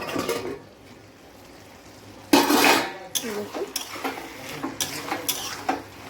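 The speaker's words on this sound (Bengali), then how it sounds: "এবার আমি ঢাকনাটা খুলে নেব" A metal lid lifts off a pot of simmering Malabar spinach and fish-head curry with a sudden loud clatter and steamy rush, followed by scattered light clinks of utensils against the pot.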